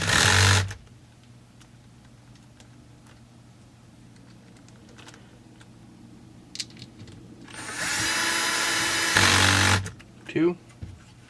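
Power driver running bolts into the gas tank of a Stihl MS200T chainsaw during reassembly: two short, close whirring bursts separated by a long quiet stretch, with light tool handling and a brief voice near the end.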